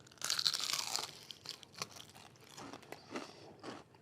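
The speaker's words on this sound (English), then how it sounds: "That has got the crunch. It's got the crunch to it." A bite into a crunchy hand-breaded Walla Walla sweet onion ring gives a loud, close crunch, followed by several fainter crisp chews and crackles in irregular bursts.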